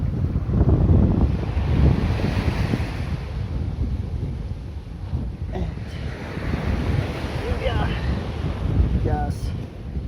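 Waves wash onto a beach at Sungai Rengit with a constant rolling surf roar, heavy wind buffeting the microphone throughout.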